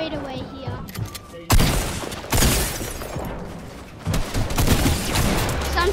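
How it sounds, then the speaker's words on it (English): Pistol shots ring out in a shooter video game, several sharp bursts cutting through the noisy battle mix, loud and close, with other game noise around them. "I'm shooting from a distance, but I only got three pistols."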